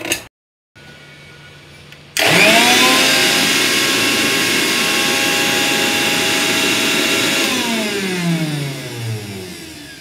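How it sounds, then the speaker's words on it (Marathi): A mixer grinder grinds green chili, cumin, garlic, ginger, coriander and turmeric into a paste. After a short quiet start it kicks on loud and close as a steady whirring whine, and its pitch sags near the end. "हे आपण मिक्सरमधून वाटून घेऊया"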